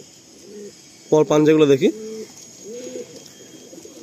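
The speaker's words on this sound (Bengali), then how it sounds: "নেক্সট আমরা একটা গিরিবাজ পায়রা শখ করছি" A male Giribaz pigeon gives a short, close burst of cooing, with someone talking quietly before and after it over faint background hiss.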